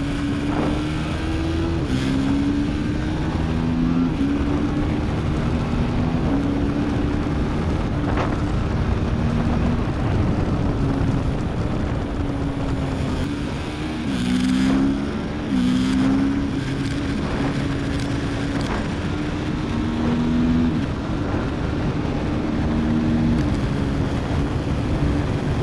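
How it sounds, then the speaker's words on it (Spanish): A TVS Apache RTR 310 motorcycle lapping a race track with a quick shifter: a loud, continuous engine note climbs and drops through repeated quick gear changes, with steady wind rush over it. "Una moto muy divertida para conducir en la pista"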